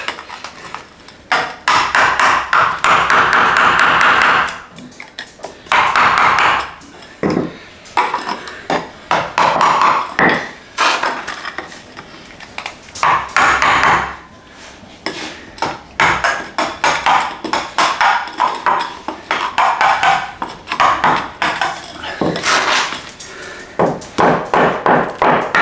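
A hammer knocks against a piece of wood to separate a back panel, striking in repeated irregular bursts of sharp, hard blows with short pauses between, loud and close.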